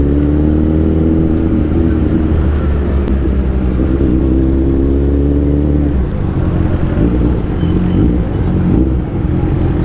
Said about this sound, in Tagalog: Dami motor siguro dito.